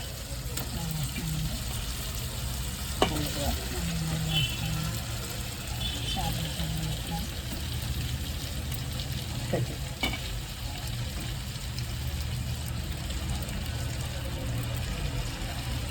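A fish curry simmers and sizzles in a pan with a steady, close bubbling and frying hiss, broken by a few sharp clinks of a utensil.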